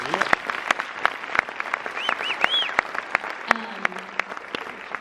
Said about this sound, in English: give yourselves and give these people behind you a quick round of applause